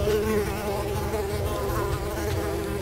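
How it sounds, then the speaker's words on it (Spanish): Mosquito swarm in the video game Unravel, a dense, continuous whining buzz that stays steady and fairly loud throughout, with no voices. "Los mosquitos, men."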